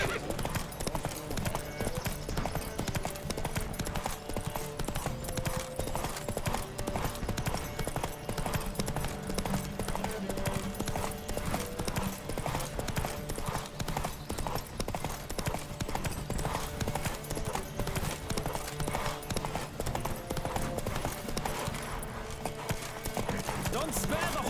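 Horse hooves gallop steadily in a race in The Witcher 3, a fast continuous clip-clop rhythm with a bright, dense texture, close and loud throughout with occasional voices over it.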